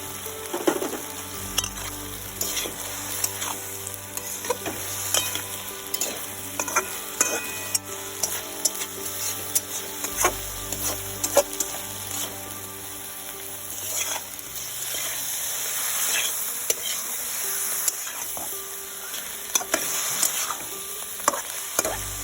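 Prawns sauté in a pan with bay leaf and Bengali spices, a steady close sizzle broken by frequent sharp clicks and scrapes of stirring against the pan throughout.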